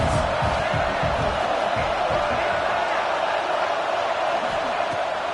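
Steady, dense roar of a college football stadium crowd during a playoff-contending team's game, continuous and broad with a commentator talking over it.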